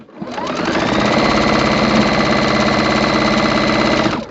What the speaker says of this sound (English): I'm going to hold it with my seam ripper as I sew right by it